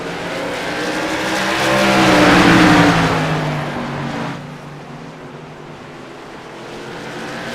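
Race cars cross the finish line at North Wilkesboro Speedway, a loud close engine roar that swells to a peak as they pass and then drops to a steadier, quieter drone.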